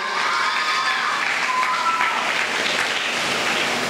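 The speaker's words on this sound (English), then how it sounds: "Give a nice round of applause." An audience applauds steadily after a primary-school pupil's performance at the NGC Sanfest preliminaries in Trinidad and Tobago, a dense continuous wash of clapping with no talk over it.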